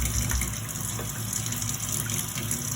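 Water running steadily from a tap beside a sewing and painting workspace, a continuous close gushing rush with no voices.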